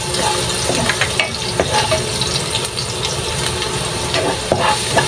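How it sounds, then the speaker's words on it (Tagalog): Garlic sautés in oil in a pan for a beans with pork dish, a continuous loud sizzle with scraping stirring clicks throughout and no voices. "bali igigisa po natin yung ating bawang"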